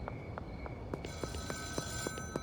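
Several phones ring at once in the video game Schedule 1, a rapid rattling telephone bell with overlapping trills and steady tones, moderately loud and continuous.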